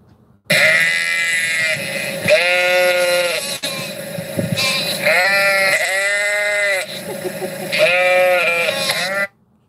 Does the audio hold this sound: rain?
no